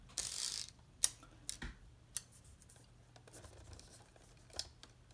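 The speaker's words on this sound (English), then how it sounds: "get my trusty Easy Runner" An Easy Runner adhesive tape runner applied to the back of a card on a table: soft, quiet clicks and brief ratcheting rasps, a few sharper snaps spaced irregularly against near silence.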